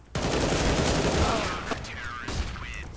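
Rapid gunfire in the video game CS:GO, a dense burst of close, loud shots that trails off into scattered reports and game effects, with players' voices faintly in the background.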